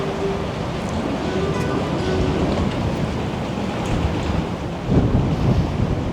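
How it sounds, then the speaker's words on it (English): Strong, continuous wind roars and buffets the microphone on the deck of the cruise ship Carnival Jubilee, a loud, steady rush with a few gusts. "It's windy out here today."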